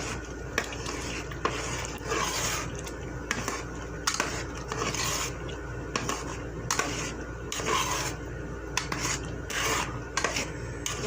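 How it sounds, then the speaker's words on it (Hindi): A spoon scraping and stirring potatoes into a white chickpea curry in a metal pot, a continuous rasping, rubbing sound with frequent clinks against the pot, close and loud throughout, with no talk. "अभी हम इसको अच्छी तरह मिक्स करेंगे।"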